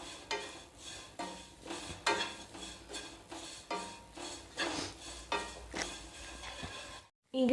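A spoon stirring ground mustard, cumin and fenugreek powder in a bowl, scraping in a steady repeated rhythm of short strokes, close and fairly quiet, with no talking, ending in a brief drop to silence.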